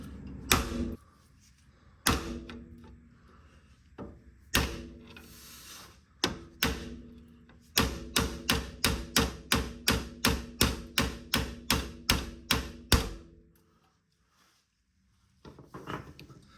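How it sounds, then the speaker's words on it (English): Sharp metallic hammer blows on a pry bar ring out, first a few spaced strikes, then a quick steady run of about a dozen hits, a pause, and more tapping, during a Lexus GX470 intermediate steering shaft replacement. "I am hitting it with a hammer on the bottom side."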